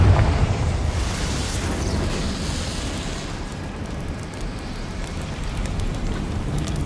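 Fiery Confringo spell blast in the Hogwarts Legacy video game: a loud burst at the start that rolls into a sustained crackling, rumbling roar, like flames and debris, holding steady without talk.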